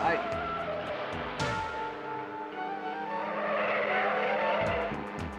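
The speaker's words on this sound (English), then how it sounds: "There's a sports car down there out of control." Engine roar and tire screech from a sports car careening out of control on the road below, a loud sustained rush with a sharp squeal, heard under dramatic music and a voice.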